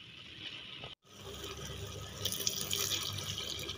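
Two cups of water are poured into a cooking pan of carrots for a South Indian carrot chutney, a brief near splashing pour that cuts out for a moment, then resumes steadier and brighter.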